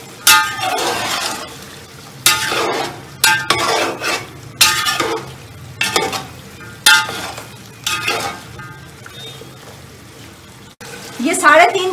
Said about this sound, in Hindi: और इसको भून लेंगे थोड़ा सा।